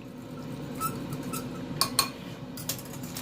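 A spoon stirs a mixture with a pinch of baking soda in a bowl, giving light clinks and taps against the dish, a few sharper knocks standing out over a soft background.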